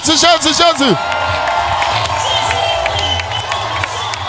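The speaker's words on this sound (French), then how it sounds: "Est-ce qu'on peut pousser des cris de joie?" A church congregation shouts and cheers for joy during a prophecy, deliverance and healing service: a burst of loud whoops and cries at the start, then sustained crowd cheering, shouting and clapping that carries on at a steady level.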